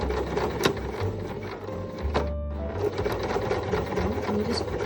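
A sewing machine stitches a flat fell seam on a concave curve, its needle chattering in steady close-up runs with a short pause midway while the fabric is repositioned.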